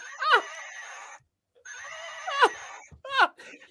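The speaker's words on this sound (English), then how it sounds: "Is that your horse?" A horse at a campsite whinnies three times in a row, each call a loud, shrill, quavering neigh with short pauses between them, close to the listener and without talk.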